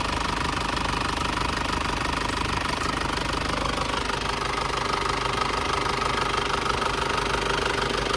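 An Isuzu TFR pickup's engine runs steadily up close, a dense, continuous rattling and knocking idle that stays loud and even throughout with no voices over it.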